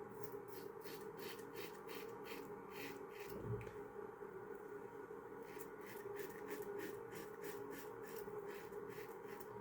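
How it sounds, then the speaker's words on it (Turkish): Slow, rhythmic scraping strokes of a safety razor drawn through shaving cream on skin, faint and close, repeating steadily with a brief pause in the middle. "Sevdiğim jiletle güzel bir şekilde tıraş akıcı bir şekilde başladı."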